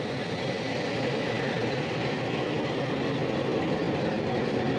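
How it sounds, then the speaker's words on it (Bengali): A Nilgiri passenger train hauled by a YDM4 diesel locomotive gives off a dense, continuous rumble that stays loud and even throughout, with no voices. "আমাদের লোকোমোটিভ ওয়াইডিএম ফোর"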